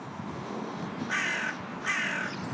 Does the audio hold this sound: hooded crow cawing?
yes